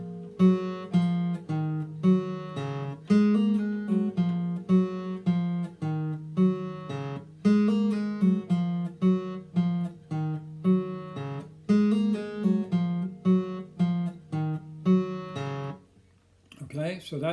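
A picked phrase on a string instrument, clear single notes plucked one after another in a steady rhythm, close and moderately quiet, with a brief pause and scrape near the end.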